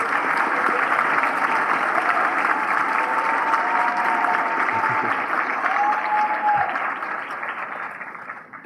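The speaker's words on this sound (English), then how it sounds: "One more big round of applause for our diploma recipients." Sustained audience applause for adult education diploma recipients at a workforce education recognition ceremony, a dense, steady roar of clapping hands from a large crowd that holds for several seconds before starting to thin at the end.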